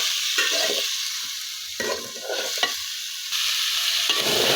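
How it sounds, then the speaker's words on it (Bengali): Vegetables being stirred with spices and salt in a hot frying pan for khichuri, a continuous sizzle with bursts of scraping as the spoon moves, close and fairly loud, with no speech. "এখন ভালো করে এগুলোকে মশলার সাথে মিক্স করে নেব।"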